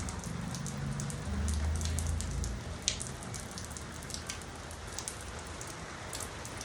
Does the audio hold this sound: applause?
no